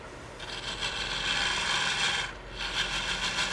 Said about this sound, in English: We're going to start out with this little carbide tool. It's a round carbide.